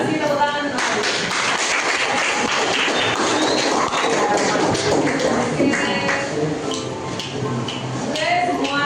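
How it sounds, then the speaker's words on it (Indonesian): A classroom full of students applauds, a dense, steady patter of many hands clapping that carries on without a break, with voices mixed in. "terima kasih tepuk tangan"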